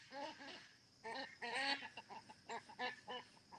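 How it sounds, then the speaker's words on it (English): Loud, repeated quacking calls in quick bursts, several farm ducks honking close by with short pauses between calls. "my ducks are being very loud"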